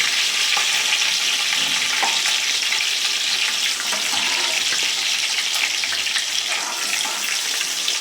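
Cumin and chopped vegetables frying in hot oil for a fasting-day dish, a loud dense continuous sizzle with crackling spatters throughout, close to the pan, no speech.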